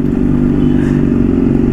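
A Honda CBR motorcycle engine runs loud and close at a steady idle, a deep even throb with a faint clattering texture and no voices.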